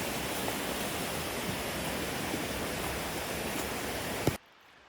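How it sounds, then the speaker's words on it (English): A mountain stream rushes through the forest near Goshen Prong in the Great Smoky Mountains with a constant, full, close roar that cuts off suddenly near the end. "the rest of it will be accompanied"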